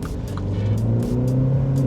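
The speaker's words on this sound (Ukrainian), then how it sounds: "Дали газу" A 2-litre MINI Cooper S in sport mode accelerates, its engine droning loudly and steadily up close from inside the car.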